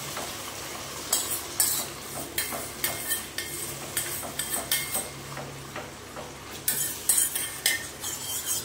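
Spoon scraping and clanking in a pot as a spiced vegetable biryani masala is stirred and fried over high heat, with repeated rhythmic metal strokes over a low sizzle, close and clear with no talk.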